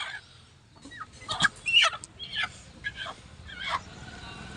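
Several short clucking and gobbling calls of chickens and roosters in bursts over a low murmur of a weekly village market, a few calls at moderate distance.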